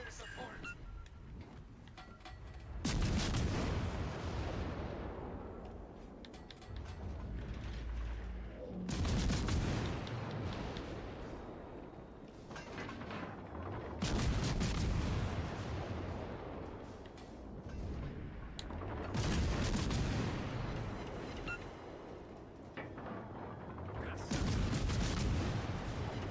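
Naval guns firing in World of Warships: Legends, heavy booming salvos roughly every five to six seconds, each a loud broadband blast that rumbles and decays, with someone talking between shots.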